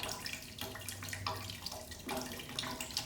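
Steady rush of water flowing through the radiator of a 2006 Yamaha R6 motorcycle during a coolant flush, a continuous splashing hiss with no talk.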